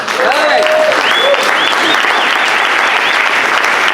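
A big round of applause for Mr. Steed at an ACN Xoom Energy training event, the crowd clapping loudly and densely throughout, with a few voices calling out over the clapping.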